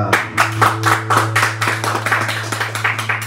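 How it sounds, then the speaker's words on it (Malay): Audience clapping at a Digital Joy / Ellojoy colostrum milk product event, a small group of hands patting in uneven bursts over a steady low hum, fairly close and moderately loud. "Berikan tepukan."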